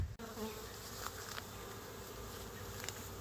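A swarm of honeybees buzzes steadily and densely throughout, a continuous near hum with no talk, as the insects circle looking for a place to land.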